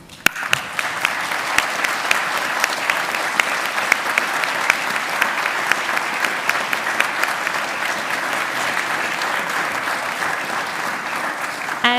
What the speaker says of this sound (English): Please thank them by clapping.